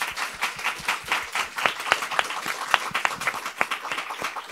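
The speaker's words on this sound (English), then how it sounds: "So round of applause for our panel," An audience applauding an artists' panel, lively clapping from a modest crowd with sharp individual claps standing out, close and continuous throughout.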